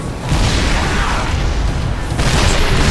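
Siege tanks in StarCraft II pound Thors with heavy artillery, a dense run of deep booming blasts rolling together into one loud, continuous barrage.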